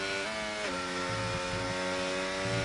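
Racing car engine in a sim race at Mexico, stuttering and cutting under traction control: a dense, loud buzzing whine with a pitch dip, then choppy low-end misfire pulses throughout.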